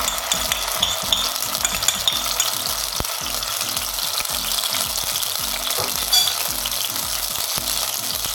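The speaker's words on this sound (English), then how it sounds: "I'm going to be frying the sauteed mix I have." A sautéed curry mee paste mix fries in a pan for a Malaysian curry mee, giving a steady dense sizzle with faint scraping and clinks of stirring throughout, close by and without talk.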